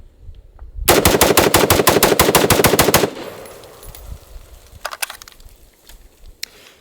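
A plinker rifle fires a rapid burst of about a dozen loud, evenly spaced shots over two seconds, followed by quieter scattered clatter and a couple of faint later pops.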